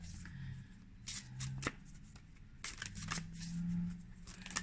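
An oracle card deck being shuffled up close in quick, papery bursts of riffling and flicking, with brief pauses between them.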